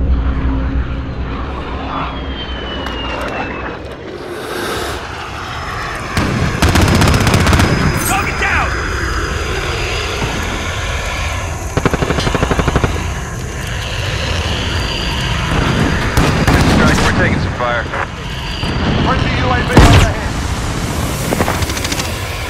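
Gunfire in the video game Call of Duty: Modern Warfare rattles in repeated bursts and single loud shots over a low, rumbling battle backdrop, with voices talking in between.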